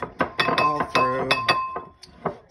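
Icing sugar, about one and a half cups, shaken through a sieve over a bowl for bakewell tart icing, giving a close run of bright metallic and glassy clinks and rattles in uneven bursts.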